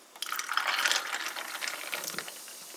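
Coffee pours into a mug that already holds ice cubes and sparkling water, giving a close, bubbling, trickling stream that swells and then gradually thins over a couple of seconds, with no voices.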